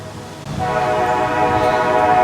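A railroad train horn blares loud and steady with sustained harmonic tones, rising in after a brief lower rumble and holding to the end.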